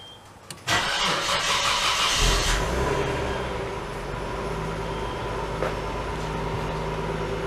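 A Nissan Skyline R32, just repaired for a fuel leak, cranks briefly and fires into a steady, close idle that keeps running evenly with no voices over it.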